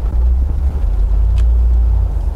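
A Toyota Land Cruiser 80 Series with an LS V8 engine swap and paddle-shift transmission pulls away on a public street, its deep low engine rumble loud and steady throughout.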